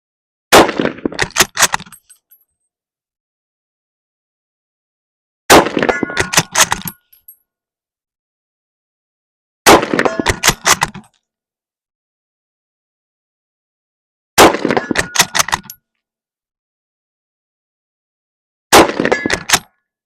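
A Lee-Enfield No.4 Mk1 rifle fires five separate shots, each sharp crack followed by a burst of metallic ringing from steel targets being hit, with a few seconds of silence between each burst.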